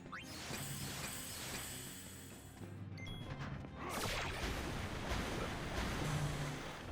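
Water magic attack in the video game Final Fantasy X-2, a sustained rushing splash like crashing surf that swells and surges louder midway, faint and alone without talk.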